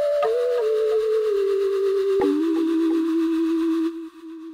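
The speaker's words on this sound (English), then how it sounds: "how to make a wooden flute lead in Massive X that sounds something like this" A synthesized wooden flute lead made in Massive X plays a single breathy, sustained note that slides slightly downward with a gentle vibrato, then cuts off abruptly near the end.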